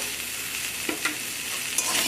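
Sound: stirring fried vegetables with ginger in a pan

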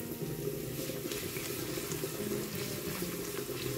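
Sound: garlic sizzling in hot oil

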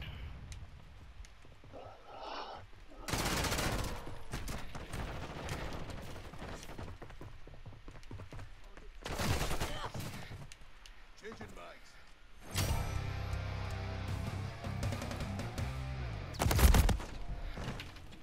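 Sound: gunfire in a video game

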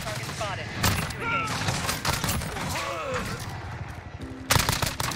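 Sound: AUG rifle firing in Modern Warfare video game

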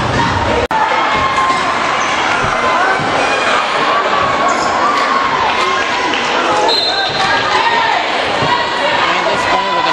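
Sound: crowd cheering at a high school basketball game

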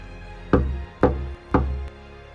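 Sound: bamboo signal stick being struck

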